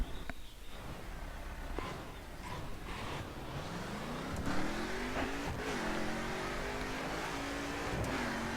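Mercedes SLS AMG engine in the racing game The Crew, a steady mid-pitched drone that climbs in pitch as the car accelerates, dips briefly as it shifts, then rises again over about eight seconds.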